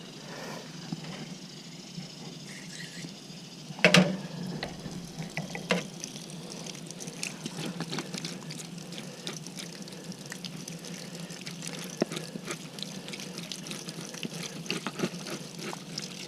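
Water runs steadily from a pump house tap while rinsing a wax press, a faint continuous splashing flow with a brief louder clatter near the start.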